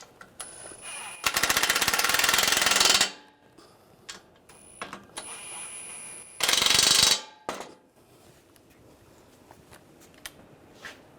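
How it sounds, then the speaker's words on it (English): A ratchet tightens bolts on the AC condenser of a 2013-2016 Dodge Dart 2.4L, two loud rapid clicking runs, one long and one short, with small clinks of tools between them and no voice. "And we'll tighten those down."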